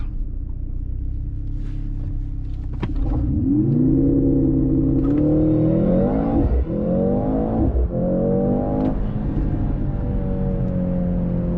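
A 2024 Mercedes-AMG C63 S with its 2-liter hybrid engine accelerates hard on boost from a steady idle, a loud rising engine drone climbing through several gear shifts from inside the cabin.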